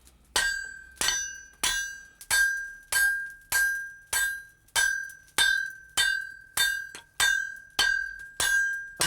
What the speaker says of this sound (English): Just hold it flat against the anvil. Yeah. And hit with the hammer.